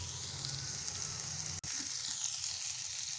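Chicken and capsicum fry in a pan with a steady, moderate sizzle that breaks off in a sudden brief dropout midway, then returns thinner and slightly quieter, with no speech.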